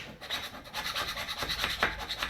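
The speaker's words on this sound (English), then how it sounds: "I'm going to make sure this spindle's nice and" Rough rhythmic scraping as rust scale is cleaned off a car brake spindle during a brake job on a 2011-2014 Hyundai Sonata, a close, steady back-and-forth rasp.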